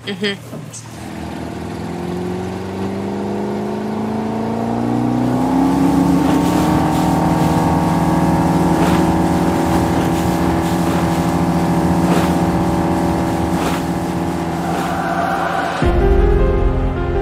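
An Axopar 22 Spyder motorboat engine drones steadily and loud in wavy conditions, rising in pitch as it accelerates, with water rushing beneath it throughout.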